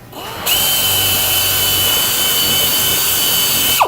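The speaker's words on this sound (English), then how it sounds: "drill the tank out using a 13/64 drill bit." A power drill with a 13/64 bit bores through the side panel of a tank during static fleet unit assembly, a loud steady high whine starting abruptly after a brief pause and running without a break.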